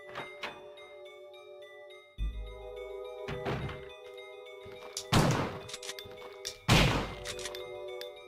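Gunfire in the 1996 PS1 Resident Evil game: several heavy, close thuds and blasts, spaced apart, each decaying into a booming tail over a sustained low synth drone.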